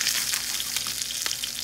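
Salmon frying skin-side down in garlic-seasoned oil, a close, loud, continuous sizzle with faint crackles and a few pops, no voices.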